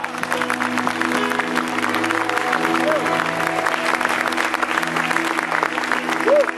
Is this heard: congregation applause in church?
yes